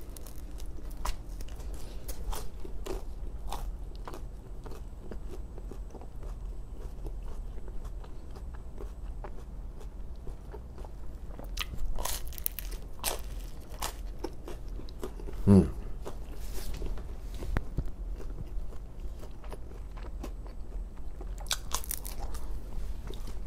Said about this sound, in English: And then you can take a bite of that beef, that salty beef.